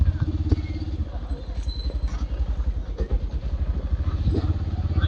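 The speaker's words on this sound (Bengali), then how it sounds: "চলো বাইকে রেডি হয়ে গেছি" A motorcycle engine idles and pulls away as riders set off in a crowded Tarapith street, a close, steady rumble beneath people talking.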